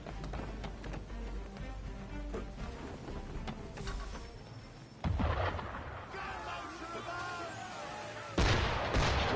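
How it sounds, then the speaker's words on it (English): Ship cannon fire in Assassin's Creed 3 booms out over a rumbling game soundscape, with a heavy blast near five seconds and another just before the end. "Why is he shooting at us?"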